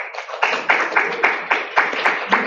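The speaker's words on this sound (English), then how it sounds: "please give a round of applause to these amazing panelists and hosts" Applause from a small audience at a student computer science panel, with individual claps sounding as a close, rhythmic series of distinct hand claps that continues steadily throughout.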